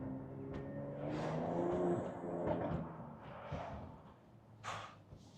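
A Mercedes C43 AMG with a Stage 2 tune and raspy exhaust drones and rises steadily from inside the car, a continuous low engine note swelling and easing over several seconds.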